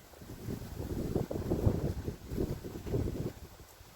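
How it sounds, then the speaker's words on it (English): Gusty wind buffets the microphone in rough, rumbling surges, rising and falling across a few seconds with no speech. "Ooh, it's windy today."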